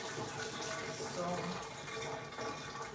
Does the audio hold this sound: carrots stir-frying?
no